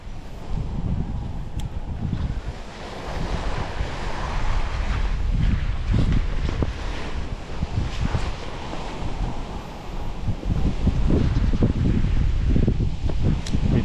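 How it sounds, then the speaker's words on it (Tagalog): Strong wind sweeps across open hills, a continuous gusting roar buffeting the microphone with deep rumbling surges throughout and no voices. "Kita mo yung lakas ng hangin."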